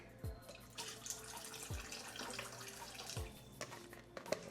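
Tap water runs steadily into a bowl in a kitchen while preparing fish, a continuous close splashing rush with a few soft knocks and clinks mixed in, no talk.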